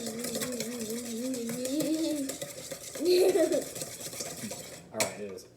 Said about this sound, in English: Let me get it all mixed up, and then I want you to keep whisking it.